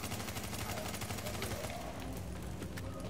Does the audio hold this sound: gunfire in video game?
yes